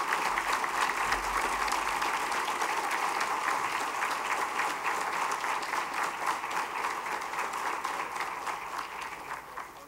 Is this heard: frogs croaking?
no